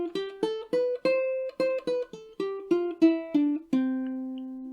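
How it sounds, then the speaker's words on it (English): A ukulele scale is plucked note by note in campanella style, about a dozen clear, evenly spaced notes overlapping and ringing into each other like a harp, ending on a longer sustained note with no talk. "Playing the Campanella way then tries to maximise the number of strings that will ring at the same time together."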